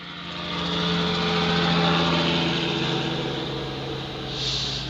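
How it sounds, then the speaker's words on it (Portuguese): A helicopter flies overhead, its steady rotor and engine roar swelling loud and continuous for several seconds with no talk over it. "Ai, helicóptero, eu te amo."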